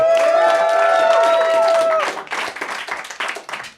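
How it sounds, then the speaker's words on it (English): Audience at a roast battle comedy tournament claps and cheers loudly, a dense burst with a sustained whoop that thins into scattered clapping toward the end. "You're going to vote for one person only with some claps and some cheers."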